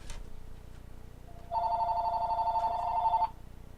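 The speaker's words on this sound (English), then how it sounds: "Phone call." A telephone rings during a live online meeting, a single sustained electronic ring burst after a brief faint chirp, moderately loud and clear with no talk over it.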